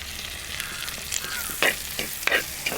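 Tomato, onion and green chilli sauté in a hot pan for a Kerala mackerel pollichathu, giving a steady loud sizzle broken by several sharp scrapes and stirs near the end.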